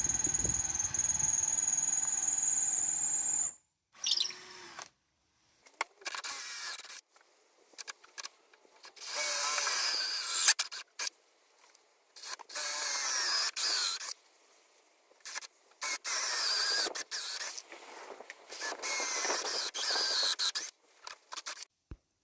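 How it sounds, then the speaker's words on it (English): Repeated bursts of high-pitched whirring from a power drill drilling holes for shelves, each run lasting a few seconds and separated by short silences. "Just make sure to hold the drill at a 90-degree angle."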